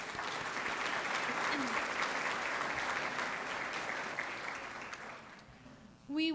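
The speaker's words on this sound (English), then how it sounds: "Let's give them a round of applause" A room full of people applauding steadily for several seconds at a town's state of the town address, the clapping thinning out near the end before a brief voice.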